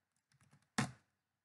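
A few quick, quiet keystrokes on a computer keyboard, then one louder clack as a key is struck, close and isolated in silence.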